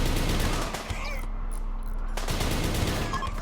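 Dense, continuous crackle of machine pistol gunfire fills the Rimworld battle, a loud, steady rattle that barely lets up, with a brief dip partway through before the shooting presses on.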